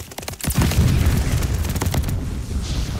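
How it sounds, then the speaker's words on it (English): A bomb explodes in the Call of Duty: Vanguard video game, a loud booming blast followed by sustained rumbling and crackling gunfire-like bursts that fill the whole moment. "We dropped the bomb."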